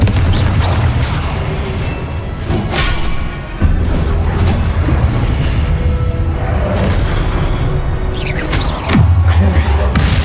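Rapid spell blasts and booming impacts from Hogwarts Legacy combat, loud and continuous with whooshing casts and heavy thuds over about ten seconds, a voice calling out spell names among them.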